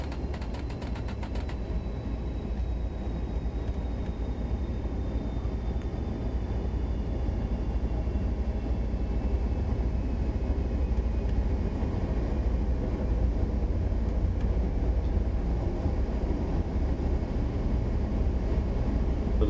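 A locomotive in Train Sim World 4 rolls along with its engine shut down, giving a steady, even rumble of wheels and running gear with a faint whine that slowly drops in pitch, and no talk.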